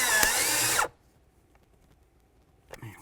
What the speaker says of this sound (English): We can snug them up. Keep in mind, you're only screwing into plastic.